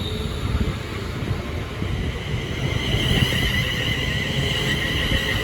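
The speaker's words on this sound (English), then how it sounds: "Now departing is the 11:17 London Northwestern Railway service from London Euston to Crewe." A London Northwestern Railway passenger train, the London Euston to Crewe service, pulls away from Lichfield Trent Valley station with a loud, steady rumble and rising traction whine, heard close by.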